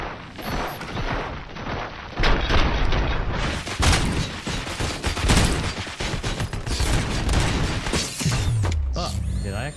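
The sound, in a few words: gunfire in video game Robocop Rogue City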